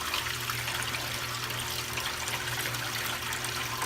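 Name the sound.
Panda portable washing machine draining water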